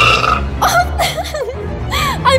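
After gulping half a liter of Sprite, a person lets out a loud, close, drawn-out burp that rumbles in several pulses, with some background noise and brief vocal sounds.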